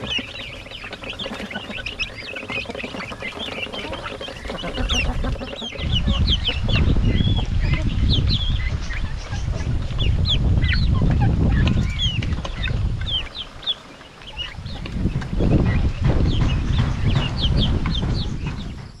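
A flock of farm hens and roosters clucking and squawking continuously at close range, with dense overlapping calls and shuffling, loud and without speech.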